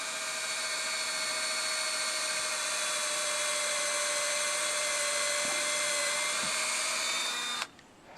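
A steady high-pitched drill whine boring into a maple tree for sap tapping runs continuously for several seconds, close and loud, with faint low thumps, then cuts off abruptly.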